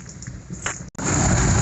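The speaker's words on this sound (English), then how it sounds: "Get out of the rain because I'm surprised there's not a drop on the lens yet." Steady rain pours down on a wet day outdoors, a dense even hiss that drops out for a split second and then returns louder and fuller, close and continuous with no talk.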